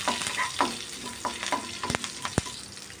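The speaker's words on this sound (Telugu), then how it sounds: "ఒక ఎండుమిర్చి, కొంచెం కరివేపాకు, ఇవన్నీ బాగా వేగనిచ్చుకోవాలి." Dried red chilli and curry leaves frying in hot oil for potato curry, a close crackling sizzle broken by several sharp pops and stirring scrapes, with no voices.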